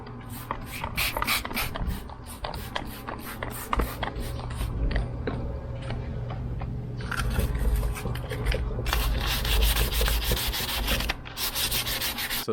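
A plastic car headlight being hand-sanded with 280 grit sandpaper, with loud, close, rapid back-and-forth rasping strokes that run continuously and rise in intensity partway through.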